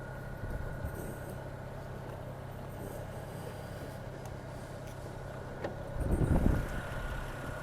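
A 2007 BMW 335i hardtop convertible idles with a steady low engine drone and faint belt whir, heard up close in the engine bay, with a brief louder rumble near the end.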